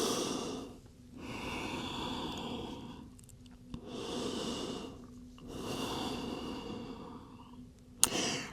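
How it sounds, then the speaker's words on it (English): Slow, deep breaths in child's pose during a yoga flow, about three long airy inhale-exhale cycles separated by short pauses, close and soft. "A couple of deep breath cycles here."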